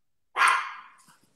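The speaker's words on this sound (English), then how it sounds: "you might hear the dog" A single sharp dog bark indoors, loud and close, followed by a faint trailing yip, heard alone against silence.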